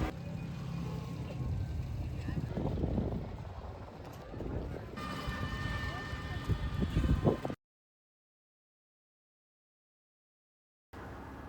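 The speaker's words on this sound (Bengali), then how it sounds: "এই যে দেখতে পাচ্ছেন স্পিড বোট।" A speed boat runs on a river near Nagariakandi Bridge, its engine a steady, rough roar mixed with wind buffeting the microphone for several seconds before the sound abruptly cuts out.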